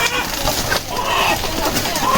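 A red hill rooster weighing about 3 kg clucks in a remote hill village, its calls rough and close against a noisy background.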